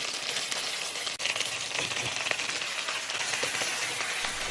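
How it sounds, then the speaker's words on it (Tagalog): Potatoes and carrots tossed into a pan of browning chicken in its own oil, giving a steady, busy sizzle of frying with a few faint clinks and stirring scrapes, no voices. "Pag na-brown na yung ating chicken, ihulog lang natin yung potato at carrots."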